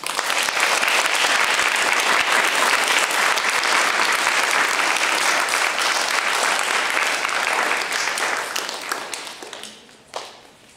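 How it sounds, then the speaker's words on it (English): Loud, dense applause from an audience honoring veterans at a school Veterans Day ceremony, many hands clapping continuously for about eight seconds before tapering off into a few last claps. "Let's give all of our veterans here and at home a round of applause."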